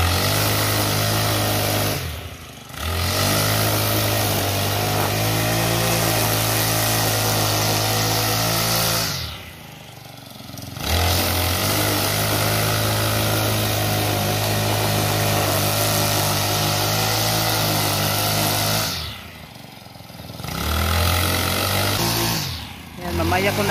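Grass cutter engine running steadily and loud while cutting grass, a continuous buzzing drone that briefly dips three times as the cutter eases off, then revs back up.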